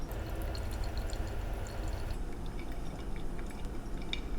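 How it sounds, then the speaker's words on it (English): Water poured over coffee in a Kalita Wave pour-over brewer makes a continuous, close trickling splash, a steady liquid stream that runs unbroken throughout. "I'm going to pour up to 260 grams of water"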